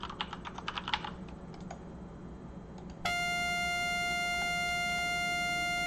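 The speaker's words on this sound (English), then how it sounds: "I'll just type in some random parameters here" Quick bursts of close keyboard clicks as someone types on a computer keyboard, tapering off before a steady electronic tone starts and holds.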